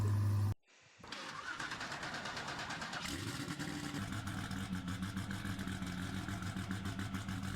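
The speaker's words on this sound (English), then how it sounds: "the idle of the car is like very like aggressive" A video game car, the Striker in Driving Empire, starts up after a brief silence, then settles into a steady, throaty idle with a low rumble that holds unchanged throughout.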